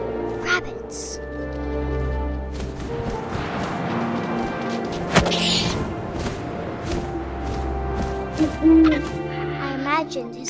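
An owl hoots over gusting wind and rustling grass in the video game What Remains of Edith Finch, with clicks and a sudden crash breaking through a steady ambient layer.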